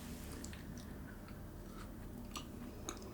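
Someone chews a homemade Malteser square, giving soft, close crunching and mouth sounds over steady low background noise, with no talking.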